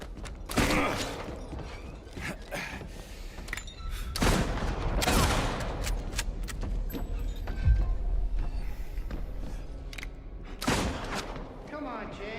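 Gunfire in the Silent Hill 2 remake video game, several sharp shots spread across the stretch, with dense game ambience and creaks around them.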